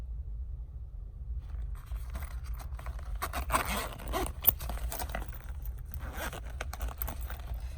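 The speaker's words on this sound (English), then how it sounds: "the mommy pocket opens with that diamond pull zipper" Diamond pull zipper being opened on the pocket of a JuJuBe bag, a faint raspy scraping run with small ticks and rustles, close by and quiet against low background hum.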